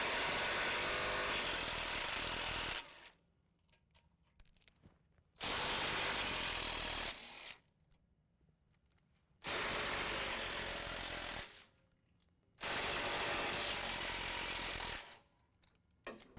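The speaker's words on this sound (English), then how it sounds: "So the next thing we're going to do is remove the sway bar." A power ratchet or impact tool loosens 15mm sway bar bolts on a 2017 Ford F-150 4WD, running in four loud, sustained bursts of a few seconds each with quiet gaps between them.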